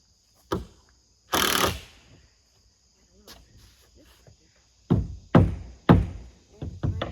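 A handful of sharp hammer knocks land irregularly, some in quick succession, tacking down milled lumber on a lean-to shed build, over a quiet background of chirping crickets.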